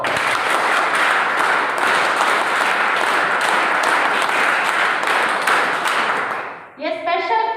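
A room full of people at a school applauding loudly and steadily, the clapping fading out near the end as voices start to take over.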